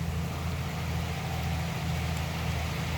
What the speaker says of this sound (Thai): เสียงเทอร์โบ